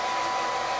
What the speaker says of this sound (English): I'm gonna hit it with my hair dryer